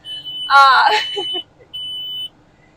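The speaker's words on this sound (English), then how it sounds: "all these beeps in here" Short electronic beeps sound twice in a Case IH tractor cab during planting, a longer tone then a second one, close by, with low engine rumble beneath.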